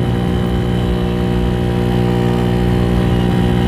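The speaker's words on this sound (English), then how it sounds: "wide open throttle" A Venom X18 motorcycle fitted with 1.5k clutch springs roars at wide open throttle, its engine giving a loud, steady drone with no break and no speech.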